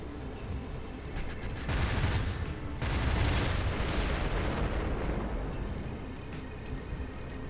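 Cannon fire and explosions in the PC game Descent 3, a dense continuous roar of blasts with heavier bursts in the middle, steady and fairly loud throughout with no talk.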